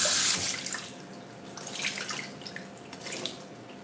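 Hot water runs from a kitchen tap into a sink, a brief splashing gush that is loud at first and then settles into a steady trickle with small drips, with no talking.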